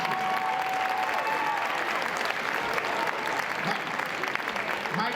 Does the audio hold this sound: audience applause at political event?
yes